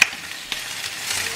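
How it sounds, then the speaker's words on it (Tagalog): Pork sisig frying in its own rendered fat, a steady close hiss and sizzle with small crackles throughout, no voices over it. "Ayan, lumalabas na po yung mantika niya."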